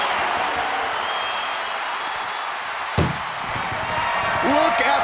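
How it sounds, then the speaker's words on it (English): Ambulance door slamming shut in the WWE 2K25 video game during an ambulance match, one sharp bang midway over steady arena crowd noise with a commentator talking. "Tossed into the ambulance. Shut the door and this match is over."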